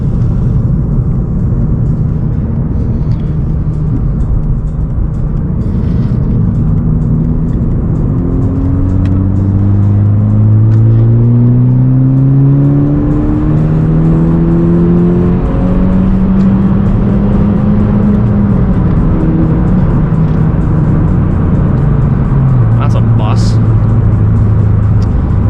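A 2017 Honda Civic Si accelerates hard in third gear, its engine roaring loudly as the revs climb steadily. A shift follows and the pitch rises again under rumbling road and cabin noise.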